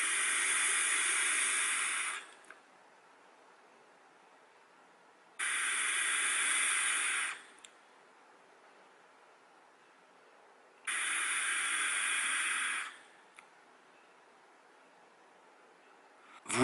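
Three long inhales draw through an Aspire Cleito EXO atomizer with fruity, high-VG, zero-nicotine liquid, each a loud, airy hiss lasting about two seconds, separated by quiet pauses.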